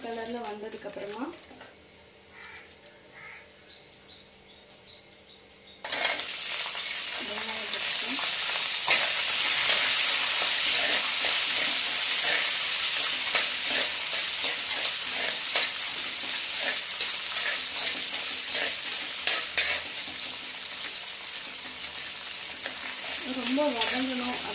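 Food sautés in a pan until browned; after a few quiet seconds a loud, steady sizzle starts and continues with stirring, while a person talks over it.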